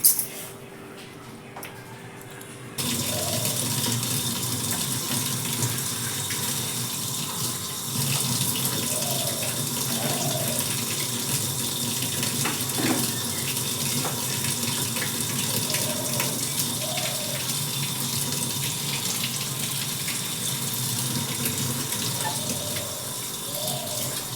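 Running tap water splashes steadily into a sink while dishes are washed by hand, a continuous rushing flow after a quieter opening few seconds, with faint clinks of utensils now and then.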